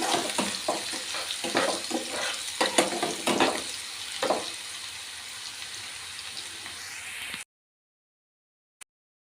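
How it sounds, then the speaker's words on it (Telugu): Onion added to cumin seeds frying in a pan for egg bhurji gives a steady close sizzle with scraping stirs and spatula knocks, then cuts off abruptly into silence. "ఇప్పుడు ఇందులో ఈ ఆనియన్ కూడా ఇలా యాడ్ చేద్దాం. ఇదంతా ఇలా చక్కగా ఇలా ఫ్రై చేసుకుందాం."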